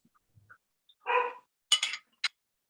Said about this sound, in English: I'm going to mute so you don't hear the puppy dog of my daughter.